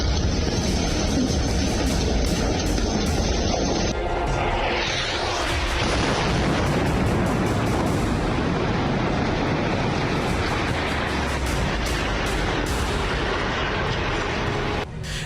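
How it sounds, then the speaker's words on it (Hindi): Israeli bombing of Beirut produces a continuous dense roar of heavy rumbling blasts and booming explosions, loud and sustained throughout. "आईडीएफ ने बैरूत में 48 घंटे के अंदर आसमान से इतना बारूद बरसाया कि पूरा इलाका धुआं धुआं हो गया।"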